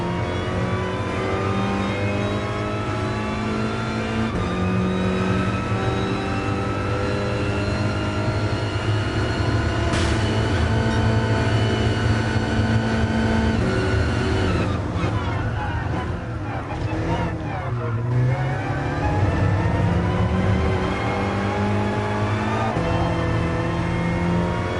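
A race car in GT Sport, played in PSVR on a PS4 Pro, drones loudly and continuously, its revs rising and falling through gear changes with a brief dip partway.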